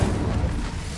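A fire spell cast in Hogwarts Legacy bursts out as a dense, roaring whoosh with a heavy low rumble, loud and sustained for about a second with no voices.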